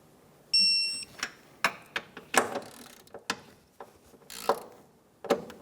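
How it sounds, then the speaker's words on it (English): A torque wrench tightens the water pump nuts on a Chevrolet Sonic, with a run of irregular close metallic clicks and ratcheting ticks and a brief tonal beep early on, with no voices. "Torque it to 43 foot-pounds."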